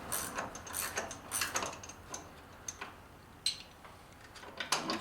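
A part on a 1985 Chevy K10 being tightened by hand, with faint, irregular ratcheting clicks and metallic ticks spread across a quiet background, a few sharper clicks standing out.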